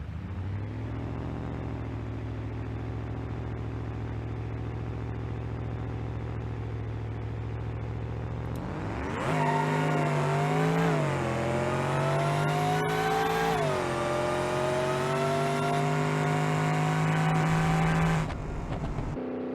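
A blown big-block 440 with a nitrous kit, in the BeamNG.drive video game, idles with a heavy rumble, then roars hard as it accelerates, revs climbing through several gear shifts before cutting off.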